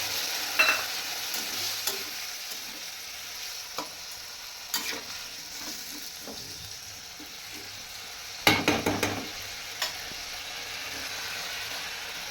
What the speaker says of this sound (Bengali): এদিকে আলুগুলো বেশ ভালো করেই ভাজা হয়ে গেছে, একটু ব্রাউন ব্রাউন কালার চলে এসছে আলুগুলোর মধ্যে